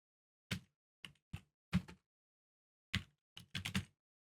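Keys on a computer keyboard are pressed in sparse, irregular taps, single clicks then a quick cluster of three near the end, heard close and quiet against silence.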